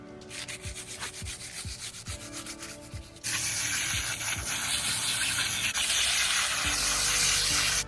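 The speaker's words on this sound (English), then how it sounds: "I'm just gonna give them a little quick scrub down" A scrub brush scrubbing Whirlpool vent hood louver covers outdoors, rhythmic brisk rasping strokes that turn into a louder, continuous wet scrubbing.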